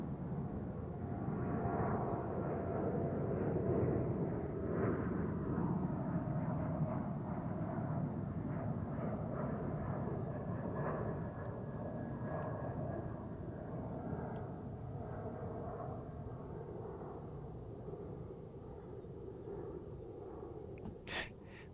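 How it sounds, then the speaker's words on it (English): A Prime Air cargo plane takes off from runway 3 at Albuquerque, a loud, sustained engine roar that stays broad and steady before slowly easing, with no talk over it. "there goes Prime Air taking off to San Bernardino from runway 3"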